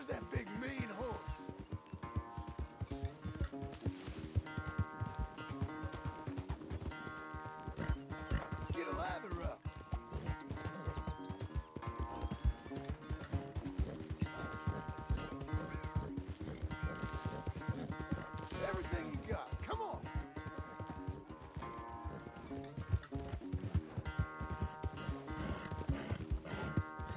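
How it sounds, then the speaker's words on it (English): Steady clip-clopping of horse hooves continues throughout, rhythmic and close, with voices talking and other sounds layered over it. "Come on. Where's that big mean horse?"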